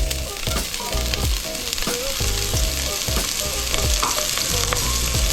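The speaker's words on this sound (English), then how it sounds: "Gonna add the minced onions" Minced onions fry for pumpkin rice, giving a loud, steady sizzle with scraping stir strokes and clinks of a utensil against the pan.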